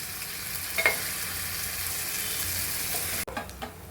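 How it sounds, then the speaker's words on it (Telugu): Bitter gourd and onion fry slowly in a pan over a low flame, giving a steady close sizzle with a brief stirring clink early on. The sizzle drops away abruptly near the end. "ఇప్పుడు ఇది మెల్లగా వేయించుకుందాం. స్లో ఫ్లేమ్లో 5 మినిట్స్ వేయించుకోవాలి."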